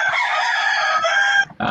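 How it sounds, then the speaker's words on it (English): A rooster crows loudly and close on a farm, one long sustained call with hens clucking around it, ending with a brief drop before another burst. "sorry about the chickens."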